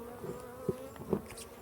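Buckfast honeybees drone around a small nucleus hive, a soft steady buzz with a few insects passing close for brief louder swells.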